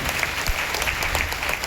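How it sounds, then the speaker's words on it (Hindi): Loud audience applause fills a crowded gathering, dense steady clapping from many hands throughout with no speech over it. "एक जोरदार ताली बजाइए।"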